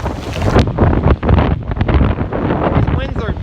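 Tropical Storm Eta drives strong winds of over 30 mph across the mouth of Tampa Bay, roaring loudly and steadily into the microphone as big waves churn nearby, with a person talking over the gusts.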